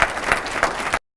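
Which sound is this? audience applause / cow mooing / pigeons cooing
audience applause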